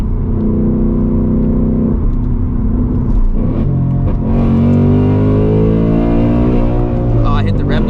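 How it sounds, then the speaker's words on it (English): A 2024 Mustang GT with bolt-ons, rated around 500 horsepower, pulling hard as engine pitch climbs steadily, dips at a shift, then rises again and hits the rev limiter, loud and close inside the cabin with a voice over the noise. "I hit the rev limiter."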